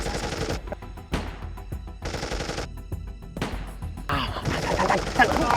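Gunfire rings out in bursts of rapid automatic shots, loud and close, broken by brief pauses and ending in a denser, noisier stretch.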